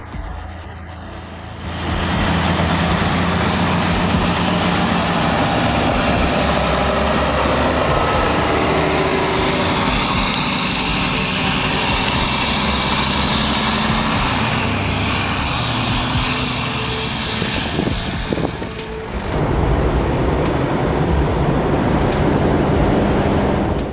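Several Kenworth prime mover trucks hauling a heavy generator, a loud, steady engine roar with deep low rumble that holds for over twenty seconds, briefly dipping near the end, no talk.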